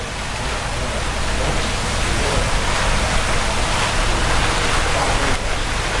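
Water drains from a koi tank in a loud, steady rush, a constant broadband gush with no pauses, close by and without voices.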